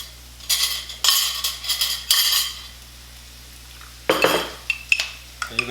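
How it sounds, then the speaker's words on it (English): A spoon scrapes and clinks against a pan while scrambled eggs with fresh garden vegetables are stirred, in several bursts of clatter separated by short quiet gaps. "I'm going to stir it up a little bit so I got all the flavors."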